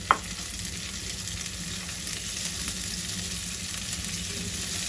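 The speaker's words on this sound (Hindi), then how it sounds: "हल्का सा हमारा जो लहसुन और अदरक का पेस्ट है ये फ्राई हो चुका है" Garlic and ginger paste frying in a pan, a continuous close sizzle with a faint steady hum beneath and one brief knock at the start, no talk.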